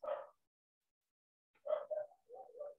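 A dog barks indoors, giving one short bark, then after a pause a quick cluster of three or four muffled barks. The barks are moderately near but low in volume, with no talking.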